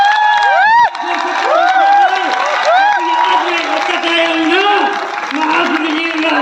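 Loud crowd in a large stadium at a direct selling event, cheering and clapping for Rahul Yadav, with whoops and high rising shouts over a steady roar of applause.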